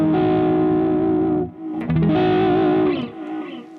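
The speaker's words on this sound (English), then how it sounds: "So let's start with the overdrive." An electric guitar played through a Jackson Audio Asabi overdrive pedal rings out in sustained, gritty chords that shift once and then fade slightly.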